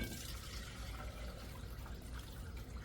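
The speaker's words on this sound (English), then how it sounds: "Then you're going to strain your mixture." Hibiscus kombucha being strained, a steady liquid pour and trickle that runs continuously at moderate volume with no speech.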